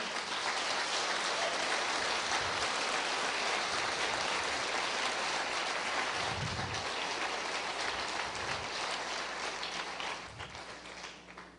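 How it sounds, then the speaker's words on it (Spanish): A church congregation applauds the Lord, a dense, hissing wash of clapping that carries on for about ten seconds at a fairly low level before it begins to fade. "Dale un aplauso al Señor"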